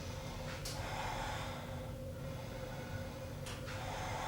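A yoga instructor draws in a deep breath during a vinyasa flow, heard as a long airy inhale over a steady, hissy room background.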